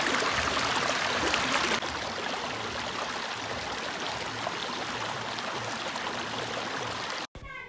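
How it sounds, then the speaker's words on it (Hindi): Close, steady rush of running water from a roadside spring pours continuously with a bright hissing texture, then cuts off abruptly near the end. "और इसकी आवाज़ सुनाती हूँ मैं आपको पानी की।"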